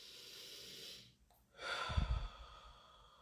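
Deep breathing during a guided meditative exercise: a steady, airy inhale, a brief quiet pause, then a louder, gusty exhale that swells and fades, with no talking.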